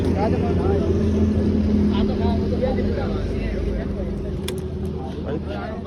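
A CNG-powered motorcycle engine hums steadily up close with road and wind noise, its low drone continuous throughout.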